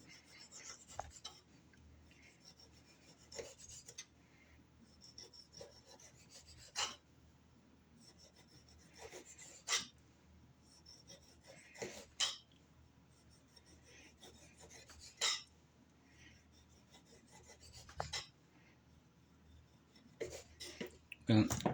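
A knife slicing down behind the peel of a trimmed, upright lemon, giving repeated soft rasping scrapes in separate strokes, close and quiet, with a low voice murmuring in between.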